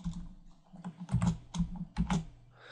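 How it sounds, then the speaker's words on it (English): Typing on a computer keyboard while coding a Django template, with bursts of quick key clacks in uneven rhythm, close and fairly quiet, with no talking. "And watch as I type here."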